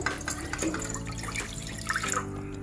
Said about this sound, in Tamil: 400 மில்லி லிட்டர் நீர் சேர்த்துருவோம்.